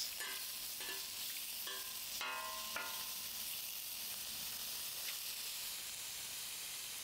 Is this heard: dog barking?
no